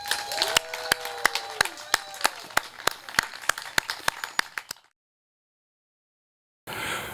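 At a Hill Top graduation, a round of clapping for a graduate comes as distinct, evenly spaced claps, like a few hands or a sparse small group, over faint background sound. It cuts off abruptly into silence before a brief burst of noise.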